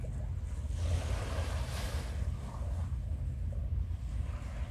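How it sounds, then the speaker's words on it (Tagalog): Steady wash of ocean surf on an island shore with wind rushing across the microphone, continuous and fairly loud, no voices. "Dinig ang alon."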